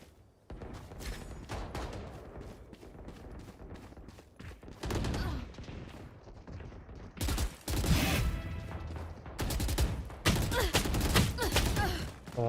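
Bursts of gunfire ring out in a competitive shooter match, with sharp rapid volleys and single shots clustered in several loud flurries against a steady background of game sound.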